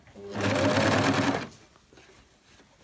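A sewing machine runs a fast, steady stitch on a homemade bumblebee costume, joining the neckband through three layers of fabric. One close, continuous burst of about a second, then quiet.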